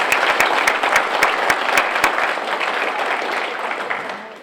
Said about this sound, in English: Let's give them a great round of applause for their accomplishments.